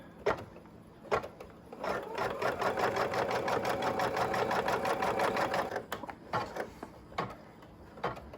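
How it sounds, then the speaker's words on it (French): An embroidery machine stitches a basting line in white thread on a Mylar design. Single clacks come first, then a rapid, steady run of stitching for about four seconds, then more scattered mechanical clicks. The sound is close and moderately loud. "Je clique sur broderie pour lancer la broderie"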